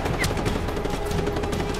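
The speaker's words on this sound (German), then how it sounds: "zu viele Feinde hier, die gerade auf mich einschießen" Enemy gunfire in Just Cause 3, a dense, continuous rattle of automatic shots at close range, loud and unbroken for about two seconds.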